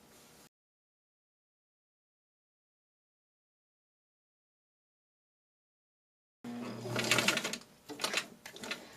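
A sewing machine runs close by, stitching gathering rows on skirt pieces in a short burst that follows a long stretch of near silence.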